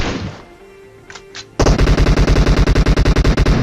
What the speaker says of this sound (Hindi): अगेन यहाँ पे फायरिंग होनी स्टार्ट हो जाती है